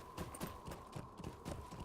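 Horse hooves clip-clop at a steady trot in the video game Lord of the Rings Online, an even rhythmic beat of soft thuds under a faint steady hum, quiet and without talk.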